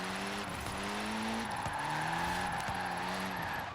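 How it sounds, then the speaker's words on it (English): An Abarth drift car in Forza Horizon 4 slides with rough tire skidding over a loud, steady engine drone, its revs dipping and climbing in repeated gear-shift steps. "Yeah, it's a pretty good drift car, I would say, so far."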